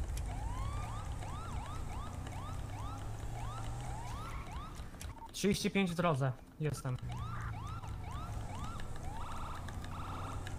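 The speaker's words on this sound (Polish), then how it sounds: "Fajne syreny." Repeating wailing police sirens in GTA V, somewhat distant, with someone speaking over them in the middle.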